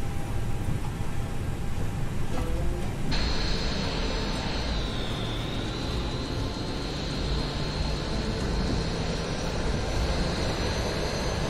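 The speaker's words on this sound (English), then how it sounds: "APU's coming up." Aircraft auxiliary power unit spooling up, a steady broadband roar with a rising whine joining in after a few seconds and holding, loud and continuous.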